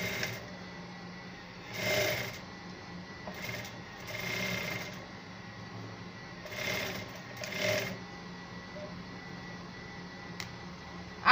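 A sewing machine stitches boning onto the front of a scissors-neck basque corset blouse, running in several short bursts with quiet pauses between them, close and moderately loud.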